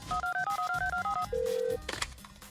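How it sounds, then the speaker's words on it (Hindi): A rapid series of two-tone keypad beeps as a telephone number is dialed, followed by a single long tone and then a brief clatter. "शोमू का दोस्त शोमू के बाप को फोन करता है"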